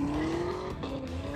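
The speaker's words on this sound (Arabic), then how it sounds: "دراج ريس." A drag race event in Abu Dhabi where cars race, with a short, close burst of engine whine and tire noise rising in pitch, then easing off.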